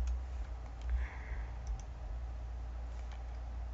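Several light computer mouse clicks, close and scattered over a steady low hum, while customizing a website template in software; no talk.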